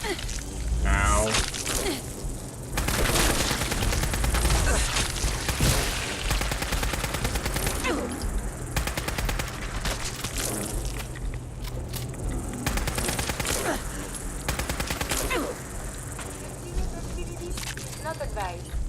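Fallout 4 combat gunfire: repeated volleys of shots and bursts crackle steadily for nearly twenty seconds, with someone talking over much of it.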